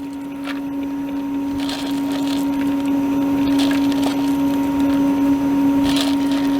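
A water ice machine's dasher churns mint chocolate chip water ice at slow speed, a loud steady motor drone with a constant whine and scraping, clicking bits as chips are stirred in.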